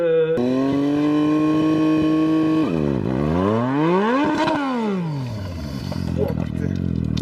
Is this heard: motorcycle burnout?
yes